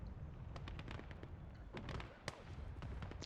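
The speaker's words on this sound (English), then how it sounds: "a little bit of suppressing fire action there" Suppressing gunfire in the WWII strategy game Gates of Hell during a 1v1 match, heard as a run of sharp, distant-to-mid shots and pops cracking irregularly over a low rumbling battlefield background.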